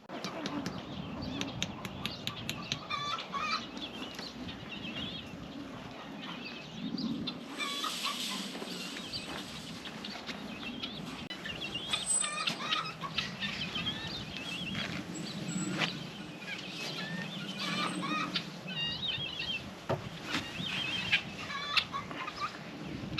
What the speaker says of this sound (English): Guineas are terrible this time of year.